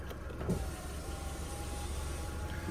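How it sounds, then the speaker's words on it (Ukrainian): A 2005 Volkswagen Golf Plus 1.6 with an automatic gearbox runs its electric power windows: a click, then a thin motor whine for over a second over a low idling engine hum, heard close inside the car. "Склопідйомники працюють."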